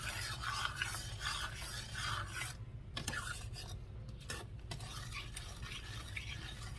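A spoon stirs low-sugar, no-pectin strawberry jam mixture in a pot, producing continuous close rasping, scraping strokes in a steady rhythm with a few brief pauses, no voices.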